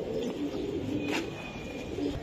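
Racing pigeons, young birds in a loft, coo softly and continuously at close range, with a steady low murmur of calls layered over one another and no talk.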